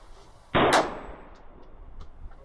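A KelTec PMR-30 pistol fires CCI ammunition once: a single sharp, loud report rings briefly, then fades into quiet background, with no talking.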